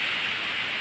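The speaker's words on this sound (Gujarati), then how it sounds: "વરસાદ ચાલુ છે" Rain falls in a steady, dense hiss that stays even throughout, close and fairly loud, with no voices.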